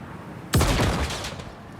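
Grenades are fired in the video game Star Citizen, a sudden heavy blast erupting midway and rolling into a crackling, rumbling burst that slowly fades.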